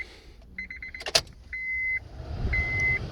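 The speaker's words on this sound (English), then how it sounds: "But first I'm going to switch on the key, the ignition" Car ignition switched on with the key: a short jangle of keys, then steady electronic warning chimes and tones from the dashboard, with faint background hum, no engine running.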